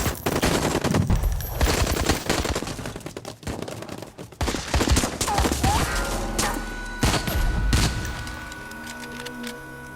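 Sustained gunfire from a Chinese action movie: dense bursts of automatic fire mixed with heavy booms and crashes, loud and continuous across the scene, with a brief shouted voice.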